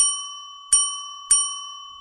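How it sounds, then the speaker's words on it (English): A bell rings three times to signal the end of a show, three bright metallic strikes evenly spaced about half a second apart, each left ringing and fading, clear and close with no talk. "3 bells."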